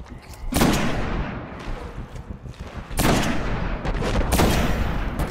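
Heavy gunfire in the Destiny video game, with loud sniper-rifle blasts: two strong booming shots around three seconds apart, each followed by a rumbling tail, over a steady din of battle.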